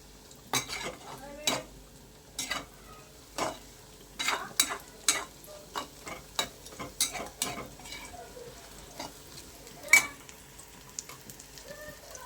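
Tomato fries in a pan with bay leaf as a spoon stirs it, clinking and scraping against the metal in a string of quick strokes over a faint sizzle, close and fairly quiet.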